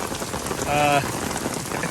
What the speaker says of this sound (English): But tons and tons of rain.